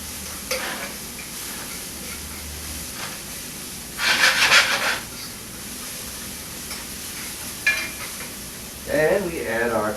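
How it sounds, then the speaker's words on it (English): Onion, garlic and parsley sautéing in a pan for tomato sauce, giving a steady low sizzle with occasional louder hissing stirs and scrapes and brief spells of livelier frying. "Saute the onion, garlic, parsley"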